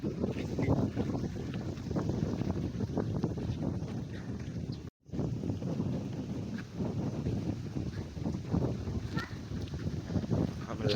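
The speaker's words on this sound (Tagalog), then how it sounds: "malakas yung hangin" Strong sea wind roars and buffets the microphone steadily at a beach, with a brief dropout midway and faint voices underneath.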